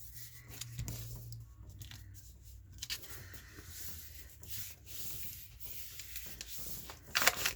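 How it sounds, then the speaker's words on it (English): Paper rubbed firmly onto a farm journal page to burnish glued, collaged paper-bag pieces down, giving soft close scraping and rubbing strokes in irregular bursts, quiet throughout with no talk. "I'm just going to burnish it real good so that it sticks."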